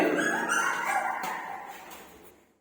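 Seven puppies yip and bark together in a busy, overlapping burst that starts loud and close, then gradually tapers off over a couple of seconds.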